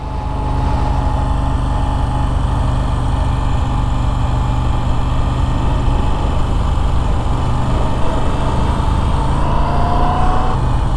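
A Moto Guzzi V7 Stone motorcycle engine idles steadily up close, a continuous low, even rumble that holds at the same level throughout with no talking.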